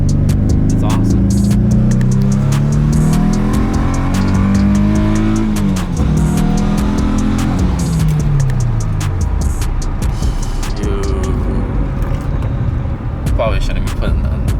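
A car with a Nissan VQ35DE engine, recently swapped from the RevUp to the non-RevUp version, pulls hard through the gears from inside the cabin, its engine note climbing and dropping through several shifts, loud and close, with people talking over it.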